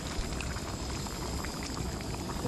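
Tomatoes are tipped into a simmering pot on a campsite stove, producing a dense bubbling, boiling burble with a splash of liquid, steady and close.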